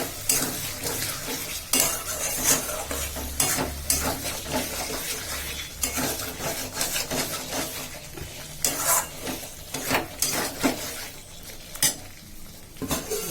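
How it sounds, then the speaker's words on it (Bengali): Fried potatoes stirred into a sizzling spiced meat curry, with busy spoon scrapes and pan clatter over a continuous frying hiss, close by and with no talk. "এবার আমি আলুগুলো দিয়ে দেবো"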